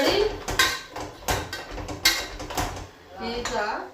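Vegetables are stirred into sambar in a metal pot with a utensil, giving close, irregular clanks, scrapes and knocks, and someone speaks intermittently over the clatter.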